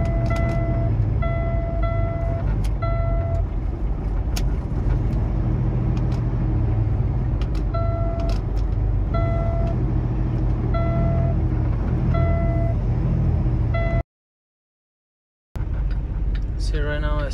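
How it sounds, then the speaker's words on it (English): A 2019 Kenworth T-680 truck with a faulty PACCAR transmission accelerates on its own, its engine giving a steady low rumble inside the cab with intermittent tonal beeps and someone talking over it. The sound cuts out briefly near the end. "The truck accelerates itself."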